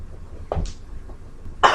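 One person coughs, a short, forced cough and then a second, louder burst, with low room noise between them.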